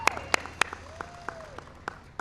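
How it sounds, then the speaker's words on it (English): Sparse, scattered claps from a school event audience, a handful of distinct sharp hits spaced irregularly over a quiet background with a faint tonal sound in between. "Let's give him a round of applause"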